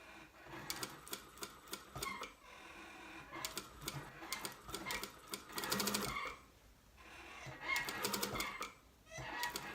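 Sewing machine stitching a collar onto a garment in short bursts of rapid needle clatter, separated by brief pauses, moderately close and fairly quiet.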